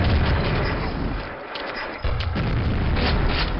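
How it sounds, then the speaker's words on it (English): Grenades go off in the Quake video game, a run of heavy booms and blasts across the short span, with a brief dip in the middle before another loud burst. "I fire grenades back here, and I also shoot that secret switch."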